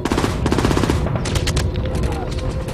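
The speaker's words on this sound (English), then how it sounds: "they are now taking fire from concealed machine gun positions" Rapid machine gun fire rattles in bursts during a D-Day battle scene, loud and close, with dense clattering shots giving way to scattered sharper reports near the end.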